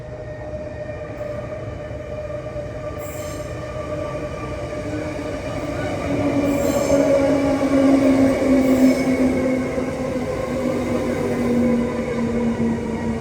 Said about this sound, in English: it's only just arriving into the station